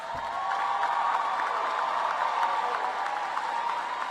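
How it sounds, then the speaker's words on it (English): A commencement audience applauds graduating veterans, with a broad, sustained wash of clapping from a large crowd in a big hall, moderately distant and even throughout, with faint cheers mixed in. "All graduates who are veterans, give them a round of applause, please."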